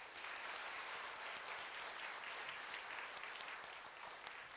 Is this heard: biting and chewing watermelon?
no